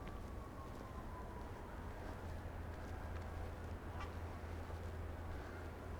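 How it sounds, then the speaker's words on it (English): Geese honk faintly in the distance while coming in to land on a sunny outdoor walk in Colorado Springs, scattered calls over a steady background rumble. "Some geese coming into land."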